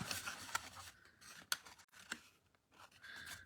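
Scissors snip through paper while a pop-up card is being made, a close, quiet series of sharp crisp cuts and rustling slides in an uneven rhythm.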